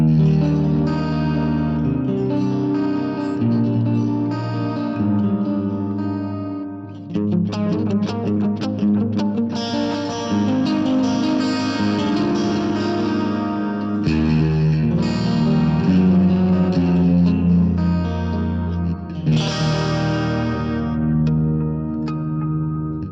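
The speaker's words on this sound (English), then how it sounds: "we can hear how lush it sounds whenever we pull in some of the modulation and increase delay" Clean electric guitar played through a Vox AV-series analog modelling amp, with chords and melodic lines swimming in chorus-style modulation and delay echoes, loud and continuous throughout with no talking.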